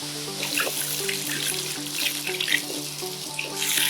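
Water poured onto cocopeat in a plant pot, giving a continuous splashing, trickling pour with bubbly gurgles that runs steadily from start to finish, close and moderately loud, with no talking.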